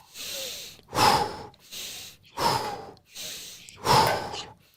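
Close, deep breaths in a breathing exercise: three strong, airy exhales alternate with softer inhales in a slow, regular rhythm, with no speech.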